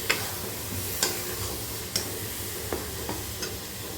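A spoon stirs thick prawn malai curry gravy in a pan, with soft scraping and a few sharp clinks against the metal over a low steady sizzle, with no talking.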